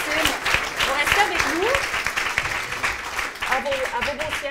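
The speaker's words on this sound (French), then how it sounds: "J'aimerais qu'on les applaudisse une fois de plus" Audience applause at the launch event for the FRQ ENGAGEMENT program, a dense steady wash of clapping throughout, with voices and cheering mixed in.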